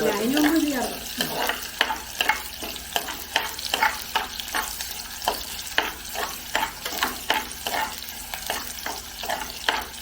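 Shallots fry in a pan for Kottayam fish curry, giving a steady sizzle broken by a repeated scrape and clink of a spoon stirring at an uneven rhythm, with faint talk at the start.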